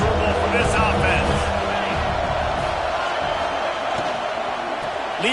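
Stadium crowd roar at a Louisville vs USC college football game, a steady loud wash of many voices with a few whoops, under an announcer's commentary.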